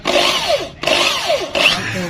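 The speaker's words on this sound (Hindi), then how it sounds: "तो ड्रिल से ना सराख लगाने लगे हैं।" A power drill bores holes in a shop while a flood light is repaired: three loud, close bursts, each whining down in pitch as the bit bites, with short pauses between.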